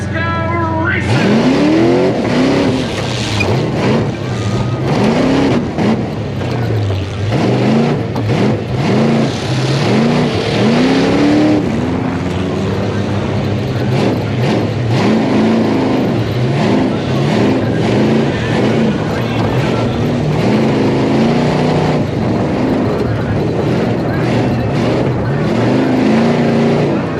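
Tough trucks race on a dirt track in Manti, Utah, engines revving and roaring loudly and continuously with rising and falling pitch, crowd and announcer voices mixed underneath.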